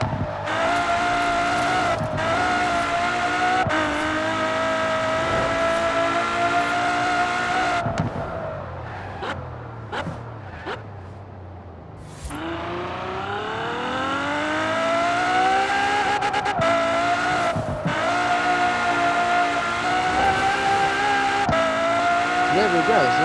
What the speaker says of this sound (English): So that's what the F12 sounds like.